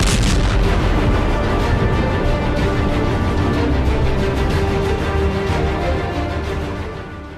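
A loud, continuous roar of bomb blasts and rumbling at a huge political rally fills the whole stretch, dense and harsh, slowly easing off at the end.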